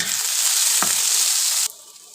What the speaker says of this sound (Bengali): পেঁয়াজ কুচি রসুন এখন আমি ভালোভাবে নেড়ে চেড়ে নেব